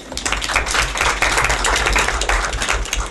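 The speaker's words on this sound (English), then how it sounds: "A round of applause for the speakers." Applause for speakers at an Internet governance conference session, a moderate spread of hand claps at mid-distance, fairly even throughout.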